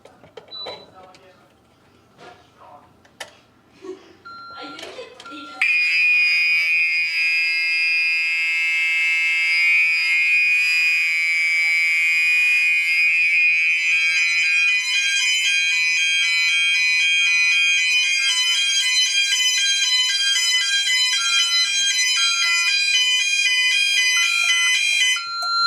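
A fire alarm on a Notifier AFP-100 panel goes off once a detector is triggered, sounding a loud, steady electronic tone that later shifts into a rapidly pulsing pattern. A few faint knocks and handling sounds come before it.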